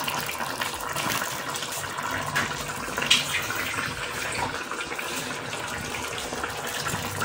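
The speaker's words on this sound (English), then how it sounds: "Yeah, and a little bit more water." Steady gush of water running into a pot, continuous and close, with a slight splash partway through.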